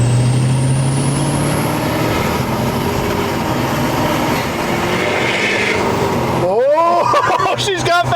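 A 725-horsepower 6.7L Powerstroke diesel pickup engine is opened up for the first time, giving a loud, close roar that rises, then breaks off abruptly near the end while voices come in.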